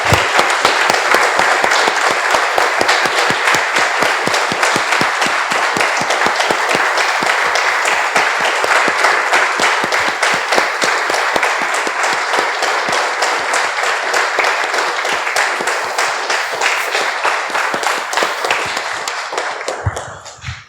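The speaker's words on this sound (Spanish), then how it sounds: "Damos un aplauso" A church congregation applauds steadily for about twenty seconds, dense clapping that holds loud and even before cutting off abruptly at the end.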